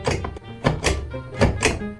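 Bathtub shower diverter knob in a bathroom clunking: a series of hollow, fairly loud thunks and knocks in an irregular rhythm, four or five distinct impacts, close by with no talking.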